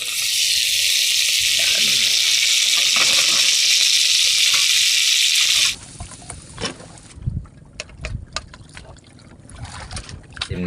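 Squid adobo, blackened with squid ink, sizzles in a pot on a new fishing boat, a steady loud frying hiss for about half the clip, then quieter clatter and handling noises with brief speech.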